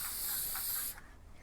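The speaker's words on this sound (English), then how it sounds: "So you have to shake it and then spray it." Schmincke Aquafix fixative sprayed from a shaken aerosol can onto a watercolour canvas, a steady close hiss of just under a second that cuts off abruptly, leaving quiet room tone.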